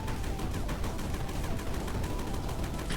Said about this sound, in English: And now the gun digs way faster.